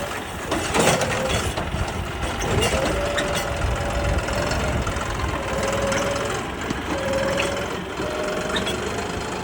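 A farm tractor idles nearby with a steady, knocking diesel rumble and a faint recurring mechanical whine, with no one talking.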